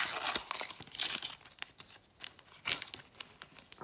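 A 2021 Premier League sticker pack torn open, with crisp foil ripping and crinkling in quick uneven bursts, close up and alone.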